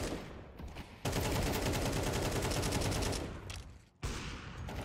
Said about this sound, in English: Taking some pre-fire shots.